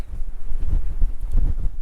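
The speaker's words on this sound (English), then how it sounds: "A little bit windy." Gusty wind buffeting the microphone on a hilltop summit trail heading toward Cave Hill above Belfast, a steady low roar with rising and falling gusts, loud and close, with no voices.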